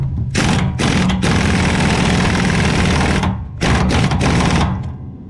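A lawn mower engine runs close and loud with the blade spinning, a dense, buzzing whir that cuts out briefly several times before surging back and fading at the end.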